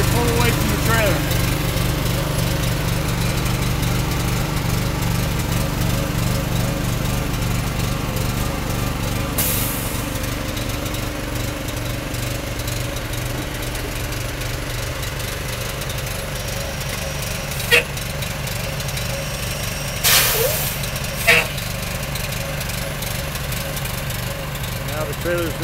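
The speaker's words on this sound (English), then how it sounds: "And we're ready to pull away from the trailer." A truck engine idles and rumbles steadily as the truck pulls away from a detached gooseneck trailer. A few sharp metallic clanks cut through near the end, and no one speaks.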